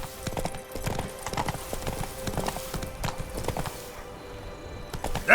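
Roach, a horse in The Witcher 3: Blood and Wine, trotting with steady rhythmic clip-clop hoofbeats, close and clear, fading out near the end.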